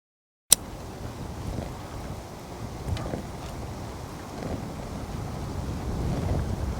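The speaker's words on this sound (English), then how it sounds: "The wind's acting a little crazy." Strong winter wind gusting outdoors at a lakeside bushcraft camp, a steady roaring rush buffeting the microphone and building toward the end, with a sharp knock at the start and no talking.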